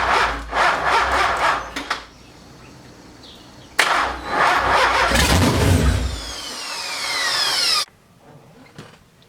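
An LS-swapped Nissan 240sx cranks with a rhythmic starter whir, then fires up loudly into a rough, revving idle before being cut off abruptly. It is heard up close with no talking.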